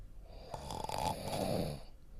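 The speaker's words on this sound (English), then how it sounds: "He's snoring." A single long, rasping snore sounds up close, rising and fading within about two seconds, with no talking.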